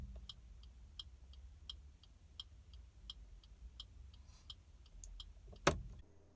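A car's turn indicator ticks in an even, quick rhythm, close and clear against a quiet idle hum, ending with a sharp click near the end.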